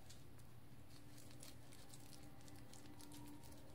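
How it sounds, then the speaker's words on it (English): Soap is rubbed between wet hands, giving close, faint, soft squishing and patter. "Soapy ASMR. I got soap on my hands."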